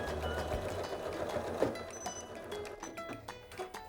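Sewing machine stitching a seam in fleece with a general purpose foot and a long stitch, a steady close mechanical whirr with rhythmic needle chatter.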